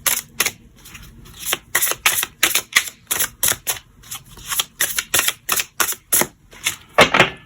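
An oracle card deck, La Sagesse des Fées, is cut and handled up close, giving a long series of crisp papery snaps and taps in uneven quick bursts.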